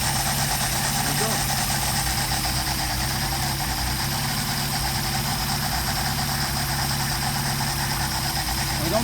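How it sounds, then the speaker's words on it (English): A Mercedes-Benz 190SL engine with Solex carburetors idles steadily, a constant low mechanical hum and rumble that holds at an even level throughout. "Anywhere between 750 and 1000 is factory for idle, so you actually have a decent idle."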